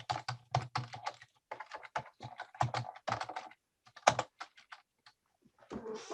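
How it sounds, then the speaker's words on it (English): Computer keyboard typing during a podcast, with irregular bursts of close, crisp key clicks and short pauses between runs, no talking. "let me turn off the clicking sounds"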